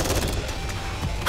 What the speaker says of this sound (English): Gunfire! Let's go check it out!